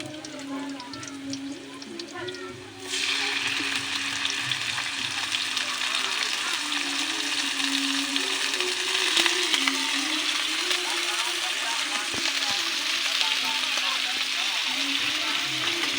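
Chicken necks fry loudly in a pan, a dense steady sizzle that jumps up sharply a few seconds in and continues with scraping stirring sounds, close and loud, with a voice speaking underneath.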